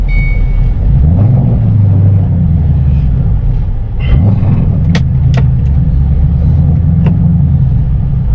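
A 2006 Ford Mustang GT Roush Stage 1 with a five-speed manual gearbox runs loud and close with a heavy low rumble, rising twice in short revs, while faint high chirps come and go.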